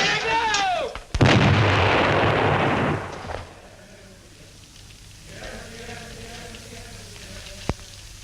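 A huge staged film explosion rips through a barber shop, opening with a sharp blast and a long roaring, crackling rumble that lasts a couple of seconds. It then fades into falling debris and a quieter, sustained wash of noise.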